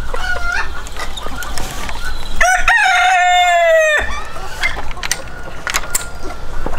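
A rooster crows once in a chicken breeding flock, a loud, drawn-out call rising clearly above constant background clucking and farmyard noise, with a few other bird calls scattered around it.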